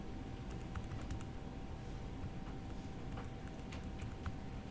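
Fingers tap entries into a calculator keypad, giving quiet, irregular clicks in short bursts over a faint background hum.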